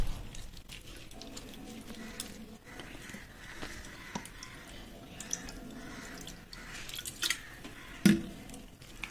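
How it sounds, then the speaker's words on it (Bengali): Fresh chhana (cottage cheese) is rinsed with cold water, giving faint, soft drips, squishes and trickles close by, with a couple of sharper splashy drips near the end. "আমি এইভাবে ঠান্ডা জল দিয়ে ধুয়ে নেব ছানাটাকে"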